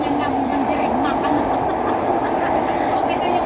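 Steady rumble of a moving MRT train heard from inside a carriage, a continuous low droning hum with faint rail noise throughout and no clear voices over it.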